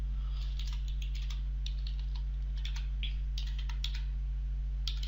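A search being typed on a computer keyboard: quick, irregular clusters of light key clicks over a steady low electrical hum.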